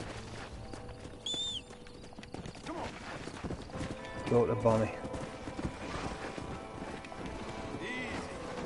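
Horse hooves clip-clop steadily in the Red Dead Redemption video game, with a brief whinny possible. The sound is moderately close, with wind and someone talking over it.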